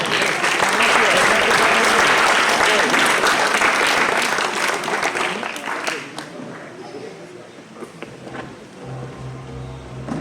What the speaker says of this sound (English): Let's give a warm round of applause as we welcome Vivasvan House.